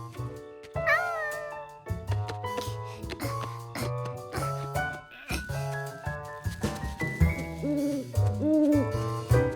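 A nocturnal bird calls in a cartoon, rising and falling hooting notes over lively orchestral music that plays throughout.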